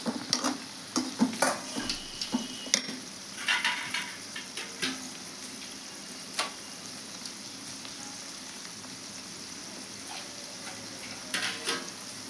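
Okra curry frying in an uncovered pan, with a steady soft sizzle under intermittent stirring scrapes and clinks of a utensil against the pan, close and fairly quiet.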